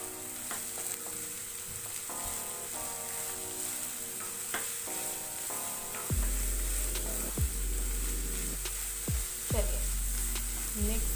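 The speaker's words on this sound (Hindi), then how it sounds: "इसे अच्छे से मिक्स कर लेंगे।" Vegetables for a veg hot dog being stirred in a pan, with a soft sizzle and intermittent scraping strokes of a spoon that grow more frequent and louder partway through, heard close and without talking.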